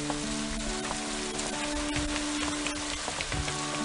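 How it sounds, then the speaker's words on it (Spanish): Steady rain falls in a close outdoor setting, a dense, even hiss with scattered patters and drips running throughout, loud and continuous with no speech over it. "A mí me gusta disfrutar de la lluvia."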